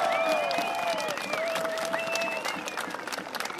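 Audience at a two-on-two armoured combat tournament breaks into sustained applause and cheering, with loud whistles cutting over the steady clapping throughout.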